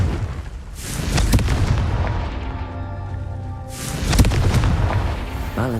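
The Confringo blasting spell explodes in the Hogwarts Legacy video game, with two heavy booms a few seconds apart and a rumbling tail that carries between them.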